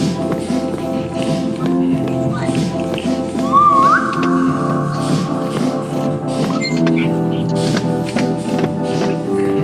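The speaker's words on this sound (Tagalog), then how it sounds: "Sumipol ka" A person whistles a short rising, wavering note during a Roblox game, heard briefly over continuous background music and light tapping.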